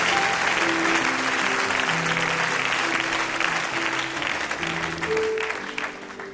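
A church congregation at a worship revival service applauds and cheers loudly, a dense, continuous wash of clapping and voices that holds steady for several seconds before easing slightly at the end.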